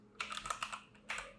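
Rapid close keystrokes on a computer keyboard, a quick burst of clicking taps followed by a brief pause and a second short burst, fairly quiet.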